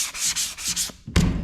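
Rhythmic back-and-forth scratching of sandpaper rubbing over primer, several quick strokes close up, ending with a louder rough scrape.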